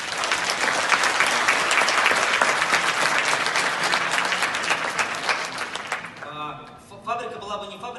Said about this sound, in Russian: Я считаю, что это достойно аплодисментов